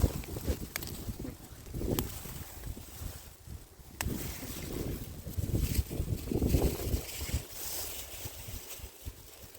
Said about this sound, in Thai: ลมพัด ลมไปคุณตั้งลมมาที่เดียวนี้